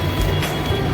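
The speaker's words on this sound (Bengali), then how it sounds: "Howrah metro, subway," A Howrah metro subway train gives a steady, loud underground rumble with a low mechanical drone throughout and no speech.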